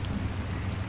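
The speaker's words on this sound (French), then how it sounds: "Il pleut bien." Steady video game rainfall in Far Cry 2 with a dense, even patter and a low rumble underneath, continuous and fairly close, with no voices.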